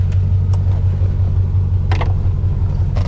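A 1990 Chevrolet Corvette ZR1 engine drones steadily while driving, a loud, continuous low rumble heard from inside the car, with a few brief clicks and knocks over the even engine note and no talking.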